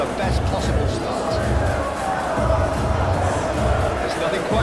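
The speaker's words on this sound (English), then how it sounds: "This crowd doesn't do ordinary, and we should be in for something very special." A dense, steady stadium crowd roars throughout at a World Cup match between Argentina and England in the PES 21 football video game, forming a continuous wash of massed voices with rhythmic low pulses.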